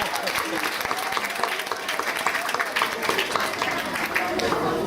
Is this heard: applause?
yes